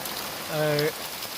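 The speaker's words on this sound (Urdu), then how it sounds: "زبردست قسم کی بارش" Heavy rain falls at Dadyal in Azad Kashmir as a steady hiss, while a short voiced sound rises briefly in the middle.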